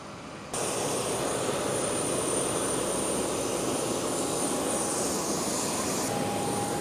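Inside the economy cabin of a Qantas Boeing 737-800 flying from the Gold Coast to Melbourne, the jet engines make a broad, steady roar that starts abruptly and then holds constant, with a faint high whine on top.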